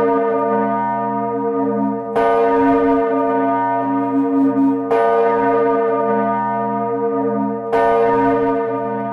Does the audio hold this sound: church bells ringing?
yes